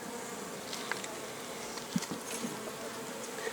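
A small honey bee swarm working at its hive in an apiary beside autumn buckwheat: a faint, continuous buzzing drone with occasional closer passes of individual bees, no voices.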